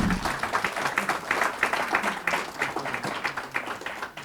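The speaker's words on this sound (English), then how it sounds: "Let's give them a round of applause." Audience applauding after a panel discussion on property rights, moderately faint, with individual claps distinct in a brisk, uneven rhythm throughout.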